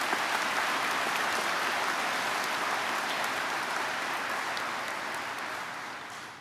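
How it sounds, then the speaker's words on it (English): A large audience at a 2024 spring commencement ceremony applauds in a steady, dense roar of clapping that holds for several seconds before tapering off. "Let's all give them a well-deserved round of applause."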